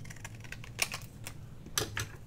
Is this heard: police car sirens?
no